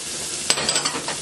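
Salmon seasoned with salt and pepper sizzles steadily in a hot pan, with a few small crackling pops over a constant hiss, close and alone.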